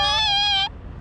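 A single steady, tonal meow-like cry, loud and close, lasting under a second before cutting off to quiet room noise.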